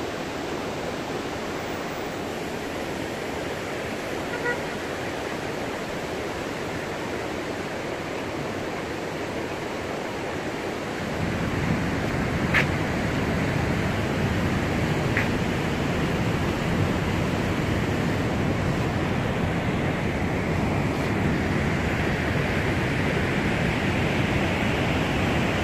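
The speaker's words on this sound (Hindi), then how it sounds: "पानी की आवाज़ बहुत आ रही है" Meltwater from a glacier rushes among rocks at Upper Kachora near Skardu, a loud, steady broadband roar that swells noticeably about halfway through and then holds constant, with no voices.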